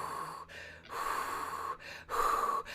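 A voice imitates the heavy, magnified breathing heard inside a racing helmet, like Darth Vader: three slow, rasping breaths in a row, close and loud with short gaps between.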